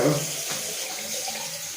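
Tap water runs steadily into a bathroom sink, a close, continuous rushing splash that stays even from start to finish with no voices.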